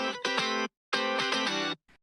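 Electric guitar phrase doubled by the same take pitched up an octave and mixed lower, heard as two bright sustained chords with a short gap between them, then a faint brief note at the end, no talking.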